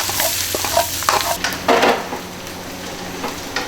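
Twice-cooked pork belly with pickled greens, aged chili bean paste, ginger and garlic being stir-fried in a wok: steady close sizzling with scraping spatula strokes and light metal clinks, no talk.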